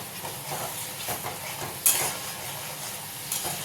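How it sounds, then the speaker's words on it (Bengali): Spices for Kashmiri aloo dum fry in oil in a pan, a quiet steady sizzle with intermittent stirring scrapes and one sharper metallic clink of the utensil, close up. "এবার ভালো করে কষাতে হবে।"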